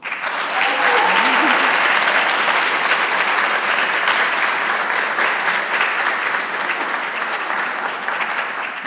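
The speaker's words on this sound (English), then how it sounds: "may we have a round of applause for the class of 2020" A large audience at a medical school white coat ceremony applauds in a dense, sustained roar of clapping that holds steady for several seconds and tapers slightly at the end.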